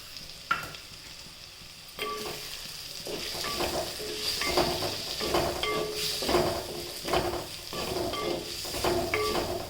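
Moong dal roasts in a little oil alongside tomato, with a continuous close sizzle and regular scraping stirs and light clinks of a spoon against the pan.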